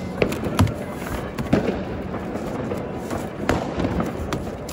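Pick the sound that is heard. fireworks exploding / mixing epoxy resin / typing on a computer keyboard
fireworks exploding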